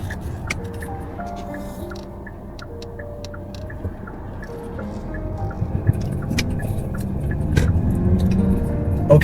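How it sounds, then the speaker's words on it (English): A car heading toward a freeway on-ramp at around 110 km/h gives a steady interior road rumble that slowly swells, with scattered small rattles and clicks inside the cabin. "another 30 seconds and we'll be driving at a speed of 110 k's onto the freeway"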